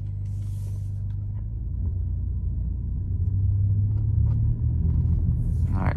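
An Alfa Romeo Giulia drives slowly in normal mode through a parking lot, heard from inside as a steady low engine and road rumble that swells slightly midway, with faint rattles and a brief higher whoosh near the end.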